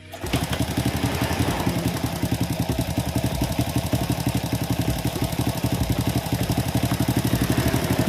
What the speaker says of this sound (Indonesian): kemudian kita nyalakan mesin.